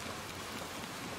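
Steady rain falls throughout in the video game Little Nightmares, a dense, even hiss of drops with no pauses, moderately quiet and heard alone.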